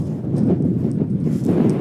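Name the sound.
strong wind blowing on microphone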